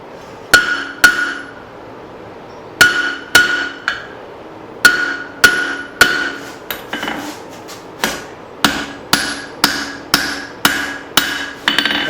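Straight peen hammer blows shaping a hot axe head on an anvil, ringing metallic strikes landing in uneven bursts and then a steady rhythmic run of about a dozen close, loud hits with no talk.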